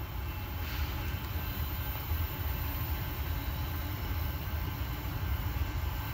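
A mixed freight train led by a Tier 4 EMD ST70AH locomotive rolls past at Duffields, giving a steady, loud, broadband rumble of wheels and cars with no voices.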